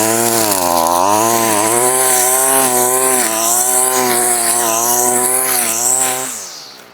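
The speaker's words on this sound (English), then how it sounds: "I can just bury it into the weeds and the brush and it's not getting hung up or slowing down." Petrol string trimmer loaded with square line chewing through weeds and brush, a loud, close, high-revving engine whine that wavers slightly under load without bogging, then drops off at the end.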